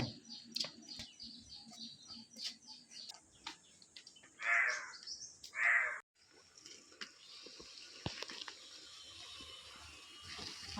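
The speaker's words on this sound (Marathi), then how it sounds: "हा बघा कावळा सुद्धा आलेला आहे" Two loud, harsh crow caws ring out close by, one after another, over a busy background of scattered clicks and clatter.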